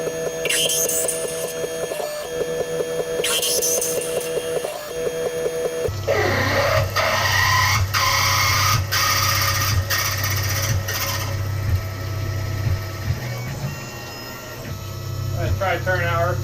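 A CNC machine mills a steel motor mount for a hydraulic press: first a whirring tonal hum with short scraping passes, then a louder grinding cut with a steady ringing chatter that lasts several seconds before easing off.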